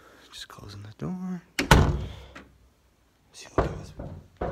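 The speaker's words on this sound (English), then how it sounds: "Just closing the door." A door in an abandoned house swings and shuts with a creak and a solid thunk, close and fairly loud, with a person speaking quietly before and after.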